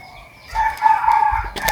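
A rooster crows once, loud and close, its long drawn-out call rising and holding before it breaks off, with no speech over it.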